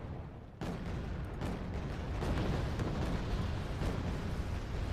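Missiles launching and detonating in the modern-warfare strategy game Wargame Red Dragon, set in a Second Korean War campaign: a dense, continuous roar of rocket fire and blasts, loud and sustained, with several sharper bursts throughout.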